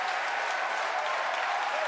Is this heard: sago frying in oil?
no